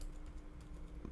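Keystrokes on a computer keyboard, a steady close run of soft clicks over a low background hum, with no voices.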